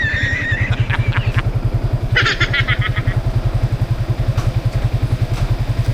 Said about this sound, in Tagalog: Ipasok natin yung ating motor.